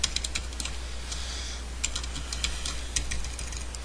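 Quick irregular keystrokes on a computer keyboard while a web page's link code is entered, close and moderately loud over a steady low hum, with brief pauses between bursts.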